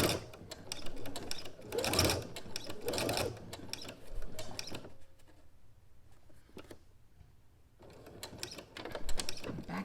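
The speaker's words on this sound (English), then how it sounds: "I am just going to sew from the folded edge to the hem, at our seam allowance" A sewing machine stitches a pocket seam from the folded edge down to the hem. Close rhythmic whirring comes in uneven spurts, with a quieter pause midway before the stitching picks up again.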